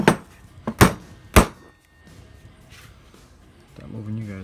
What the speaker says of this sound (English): Let's see if I can't open this up with the hammer.